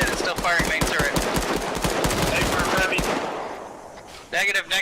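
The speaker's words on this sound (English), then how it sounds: "It's still firing main turret." Arma 3 tank battle with rapid, loud bursts of heavy automatic gunfire in close succession for about three seconds, tapering into a fading rumble before a voice briefly cuts in near the end.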